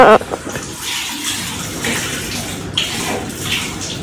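Tap water runs and splashes steadily while someone washes at a basin, the flow fairly close and continuous, with a brief voice near the start.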